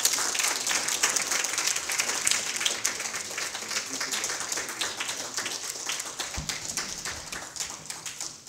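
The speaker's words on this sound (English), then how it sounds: "I thought you could stand and just give a clap for that." Applause from an audience at a graduation gala, a sustained wash of many hands clapping at steady loudness for several seconds, fading slightly toward the end.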